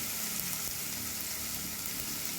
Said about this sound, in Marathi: हळद टाकली, चांगलं परतून घेऊ.